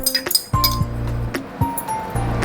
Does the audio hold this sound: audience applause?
no